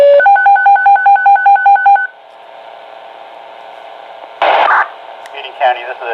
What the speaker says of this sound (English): This is just a test of the tones.